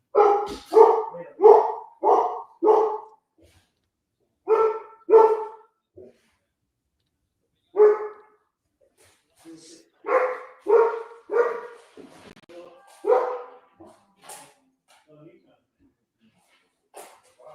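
A dog barks loudly and close by in short bursts of two to five barks separated by brief pauses, heard on its own with no talking, while a live Yankees–Red Sox baseball play-by-play is being recorded.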